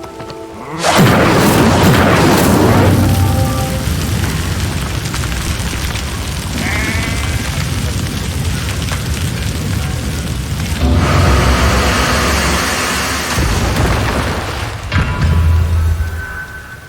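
Incendio fire spells blast in Hogwarts Legacy, each a loud booming burst with a roaring fiery rush that trails off, three or four blasts spaced over several seconds.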